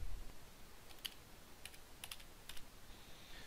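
Computer keyboard typing heard as a handful of sharp, separate key clicks in short bursts over faint background hiss, with no voices.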